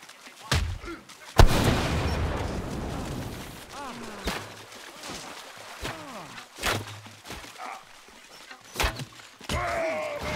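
A dynamite blast in the survival combat video game The Culling: one loud, close burst early on with a rumbling decay, then scattered sharp thuds and impacts, with voices and groans mixed in throughout.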